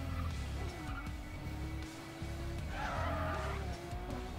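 Car skidding with the handbrake in the Need For Speed World racing game: a steady engine drone runs throughout, with a rising tire screech partway through, all close and loud with no talk.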